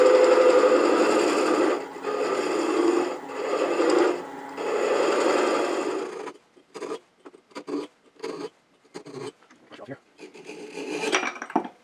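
A woodturning tool cuts a small V groove into a spinning wooden cross blank on a lathe, a steady raspy scraping in several bursts that breaks into short choppy rubs and taps at the end, with no voices.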